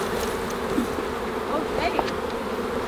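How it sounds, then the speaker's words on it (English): Honeybees and drones buzzing in an opened beehive, a steady close hum with brief louder whines of individual bees passing near, no talk. "And they're really buzzing now."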